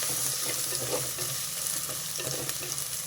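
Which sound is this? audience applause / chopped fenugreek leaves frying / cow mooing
chopped fenugreek leaves frying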